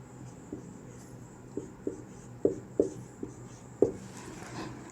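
Pen or chalk writing out a class 10 maths probability solution, soft scratchy strokes with several sharper taps and pauses between them, close and fairly quiet with no talk.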